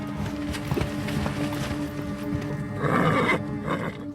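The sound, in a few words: horses neighing and hooves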